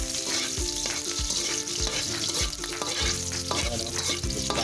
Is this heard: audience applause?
no